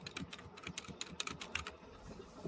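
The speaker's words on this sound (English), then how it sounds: "Do you hear this keyboard playing? Yeah, I do. It's very loud." Loud, rapid computer keyboard typing during a Fortnite session, a dense run of sharp clicking keystrokes up close that thins out toward the end, with no talking.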